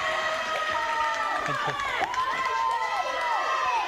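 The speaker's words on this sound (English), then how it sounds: "there's no crowd here, but a very vocal travelling contingent from Sale Sharks" Travelling Sale Sharks supporters cheer and shout at a women's rugby match against Gloucester-Hartpury, a steady wash of raised voices and whoops filling the ground with no wider crowd around them.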